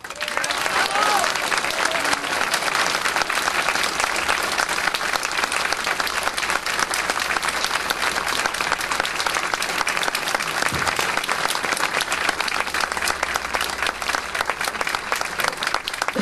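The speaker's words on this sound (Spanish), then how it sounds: "Estoy segura de que a don Baltasar Garzón le emocionaría mucho escuchar vuestros aplausos" An audience at a tribute ceremony for victims of Franco-era repression breaks into long, sustained applause, loud and dense from start to finish with a few scattered voices in the crowd.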